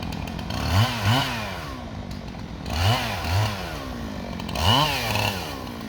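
A chainsaw cuts white oak logs at a logging site. The engine drones close and loud, surging through three rev-ups as the chain bites into the wood, with no talking.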